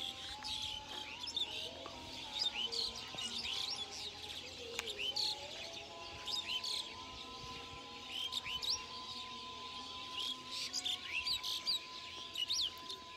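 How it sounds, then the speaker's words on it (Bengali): Birds chirp and call around a rural house set among dense jungle, with repeated bright tweets over a steady, soft background. "আপনারা মনে হয় পাখির ডাক শুনতে পারতেছেন।"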